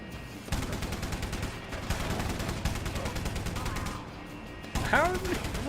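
Bullets striking the player in a video game, a dense continuous rattle of rapid gunfire and impacts lasting several seconds, fairly loud and steady, with a brief voice cutting in near the end.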